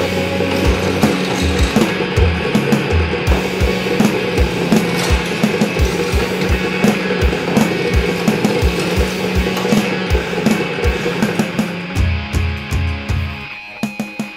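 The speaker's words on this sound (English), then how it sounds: "The drill will cut through the stainless steel at its own pace." A drill grinds and scrapes slowly through a stainless steel motorcycle exhaust up close, with rough rhythmic chatter that eases off into short bursts at the end.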